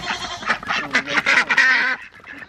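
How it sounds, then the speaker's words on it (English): Ducks honk and quack loudly in a rapid, overlapping burst as they are chased outdoors, several close harsh calls crowding together before breaking off abruptly. "You're chasing ducks."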